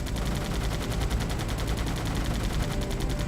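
Aircraft gunfire in the Air Combat flight game, a steady rapid rattle of shots that runs loud and unbroken throughout.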